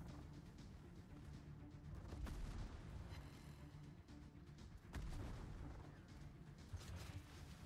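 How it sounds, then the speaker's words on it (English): Torpedoes launching from a warship in World of Warships battle, a rumbling low boom and churning rush under muffled ambient game noise, fairly soft and sustained. "And now I can release torpedoes at him."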